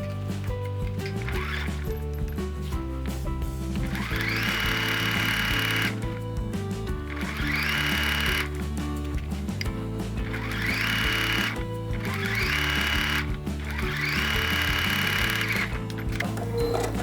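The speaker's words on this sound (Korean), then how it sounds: "테두리를 따라서 살짝 요 끝을 봉제를 해서 완전히 벨트를 만들어 줄게요" Sewing machine stitching around the edge of a jogger pants waistband, running in repeated bursts of rapid needle chatter with short pauses between, close and fairly loud, no talk.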